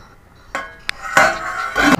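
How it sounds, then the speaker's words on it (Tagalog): A metal frying pan is set down on a stovetop while cooking adobong chicken feet, giving a few close, sharp knocks and clanks with a brief ringing tail. "Ayan guys, nagsalang na tayo ng kawali."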